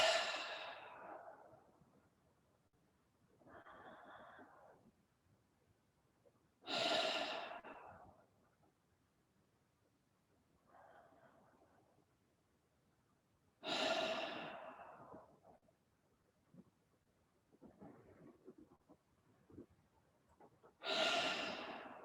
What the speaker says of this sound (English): But we'll breathe together for a bit.